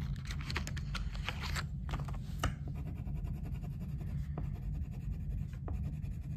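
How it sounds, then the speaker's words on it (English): A blue crayon rubs back and forth on paper in quick, scratchy strokes, close and fairly quiet, with short gaps between bursts of coloring. "So with my blue crayon, I need to color the 3."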